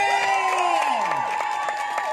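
Spectators at a veterans' 100-metre track race cheer and shout, with high sliding whoops and voices over scattered clapping, loud and close throughout.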